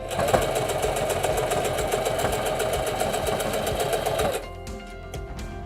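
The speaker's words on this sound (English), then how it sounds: "And then just raise the presser foot, remove the tool, and continue sewing." A Singer Denim HD6335M sewing machine stitches across a thick denim hem seam in a fast, steady mechanical rattle close by, then stops abruptly, leaving a quiet hum.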